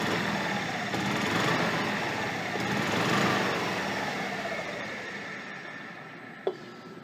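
A Kawasaki FE290 engine in a Club Car golf cart running steadily after a new carburetor, a faint even idle hum throughout with one brief click near the end.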